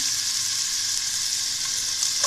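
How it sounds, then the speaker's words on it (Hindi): Chicken with onion, carrot and capsicum sautéing in a hot pan, a loud continuous sizzle close up, steady throughout with a brief stirring scrape at the end and no talking. "1 बाय 1 करके इसी तरह हमने वेजिटेबल्स भी ऐड कर देनी है और उनको सौटे कर लेना है।"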